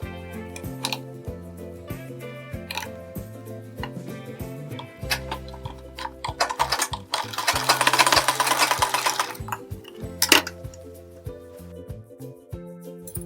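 A sewing machine stitches a blouse sleeve in a steady, close, rapid run that speeds up into a dense burst midway, then slows to short runs with small clicks, and no one talks.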